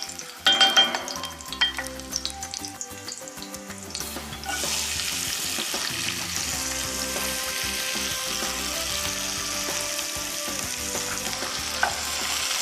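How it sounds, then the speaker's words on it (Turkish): Onions and garlic fry in a pot for potato pilaki with a steady, loud sizzle, after a few clinks and stirs at the start. "sarımsaklarımı karıştırıp soğanlarımı ilave edebilirim artık tencereme."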